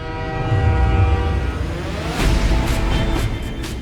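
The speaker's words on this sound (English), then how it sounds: "as the train rumbles out of Camp 18" A freight train loaded with coal rumbles out of a North Korean prison camp, a steady, loud continuous roar of rolling wagons with rattling metallic bursts toward the end.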